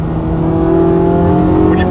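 Corvette C8 Z06 accelerating hard on a track, engine note rising steadily and loud from inside the car, with a voice talking over it.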